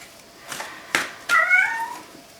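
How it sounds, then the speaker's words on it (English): A cat meows a few times, close by, with short bright calls and a longer drawn-out meow toward the end. "that's Oliver meowing"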